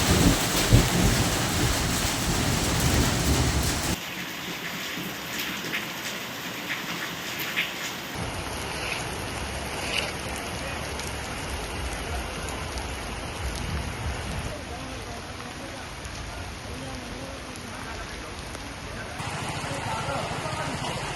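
Unseasonal rain pours steadily during a thunderstorm in Aravalli, with a loud opening burst, then a dense, continuous hiss of rainfall that shifts in level across the scene.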